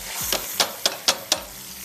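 Cooked rice stirred into hot browned ghee, with four or five sharp scraping stir strokes over a steady background sizzle, close and fairly quiet with no talking.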